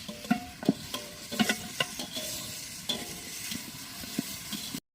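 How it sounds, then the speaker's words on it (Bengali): Chicken with tomato is stirred and fried in a pot, a constant sizzle under repeated scraping clacks of a spoon, close and steady with no talk. "চিকেন কষা হচ্ছে"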